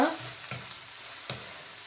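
Tamarind is stirred into seeni sambal frying in a pan: steady sizzle close by, with a sharp hiss at the start and a few spoon scrapes, no talk.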